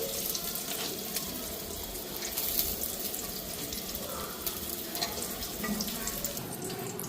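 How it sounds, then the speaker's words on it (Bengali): Tap water runs steadily over potatoes being washed at a kitchen sink, a fairly quiet, even splashing and gurgling with no voices. "এদিকে আলুটা ধুইয়া উঠাই।"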